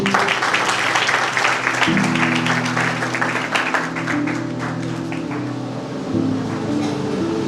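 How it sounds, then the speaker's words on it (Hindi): Loud, dense clapping from an audience at a youth retreat gathering, sustained for several seconds and gradually thinning, layered over a steady tonal background. "एक जोरदार ताली बजाइए"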